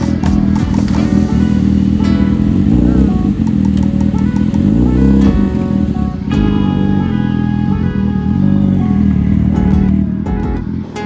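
A Kawasaki Z900 motorcycle engine runs loud and close, a continuous throaty rumble with a few revs rising and falling over the whole stretch, no talking.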